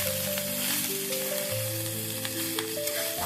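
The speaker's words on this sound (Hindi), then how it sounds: "अब हम इसमें बचे हुए चावल ऐड कर देंगे और इसे अच्छे से चला लेंगे" Leftover cooked rice is stirred into a sizzling pan of tempered spices for South Indian lemon rice, a steady close hiss with light scraping strokes while soft instrumental music plays underneath, no one speaking.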